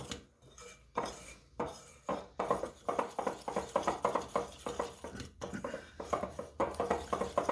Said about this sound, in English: what I'm using here to stir this up is called a Dutch or a Danish whisk